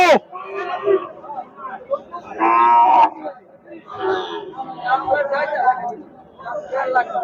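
Cattle at a large cow market moo in a few loud drawn-out calls amid a busy crowd, with people talking and bargaining throughout.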